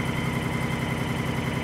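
Honda motorcycle engine idling smoothly and quietly, a steady low rumble with even pulses and no valve clatter, close by and alone for the whole stretch.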